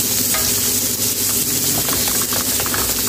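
Ginger sizzling in olive oil in a pan for a Filipino liver dish, a loud steady frying hiss with faint stirring scrapes close by, no voices.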